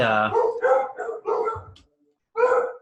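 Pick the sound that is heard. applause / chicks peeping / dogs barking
dogs barking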